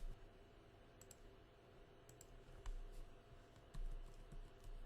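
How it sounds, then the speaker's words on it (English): Quiet clicking taps on a computer keyboard as a name is typed, a few soft irregular keystrokes with a couple of slightly heavier presses against faint background hiss. "I can go in and type her name."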